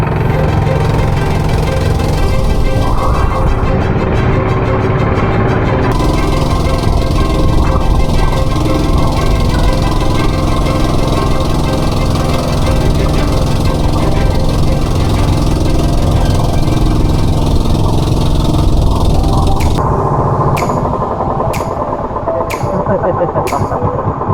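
A steady, loud boat engine drones continuously throughout on a trip near Cagbalete Island, with a few sharp clicks near the end.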